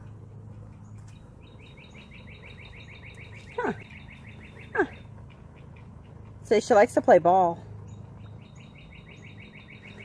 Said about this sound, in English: we're going to have just a moment just to sit here and listen to the birds sing